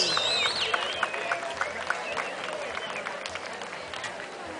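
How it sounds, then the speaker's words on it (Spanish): An audience applauds the Alika dance studio at an altruism festival in Puerto Vallarta, with steady crowd clapping and a few shrill whistles or cheers near the start, fading slightly over several seconds. "Fuerte el aplauso, damas y caballeros."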